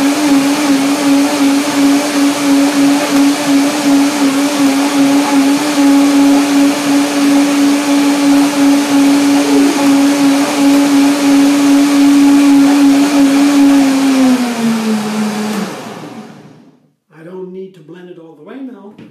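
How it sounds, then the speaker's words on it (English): Blender whirring loudly and steadily for about fifteen seconds while blending a vegan sorrel, cashew and banana milk smoothie, its pitch dropping as it winds down and stops, followed by a person speaking briefly. "So let's see the blender dance."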